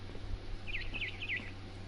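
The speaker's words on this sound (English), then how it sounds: "It was a barn swallow going back to her nest." A barn swallow in What Remains of Edith Finch gives a short run of three or four quick, high, twittering chirps over a low steady hum, faint and somewhat distant.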